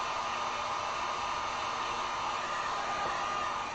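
A heat gun blows steadily over acrylic paint on a candy corn sign, a constant loud, close whooshing hiss of forced hot air with no break.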